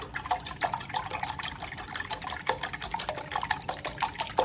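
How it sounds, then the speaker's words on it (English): Milk is poured onto eggs and briskly whisked in a bowl, a rapid rhythmic liquid clatter continuing throughout, for a turkey bacon and spinach quiche. "I'm gonna add my milk and whisk it up."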